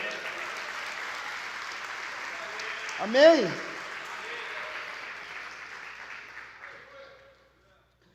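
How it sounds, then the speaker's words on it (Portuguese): Applause in a church swells as a reverberant wash from the congregation and fades out toward the end, with a preacher's voice briefly heard over it. "um aplauso ao Senhor"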